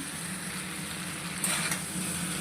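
Duck egg and cauliflower curry cooks over medium heat in a pan, giving a low steady sizzle with a brief louder scrape or stir midway, close and alone without talk.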